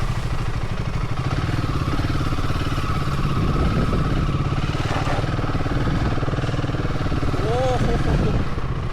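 Motorcycle, an H450, grinding up a rough off-road hill in low gear, its engine note steady and close throughout with clattering over uneven ground and brief voices in the background.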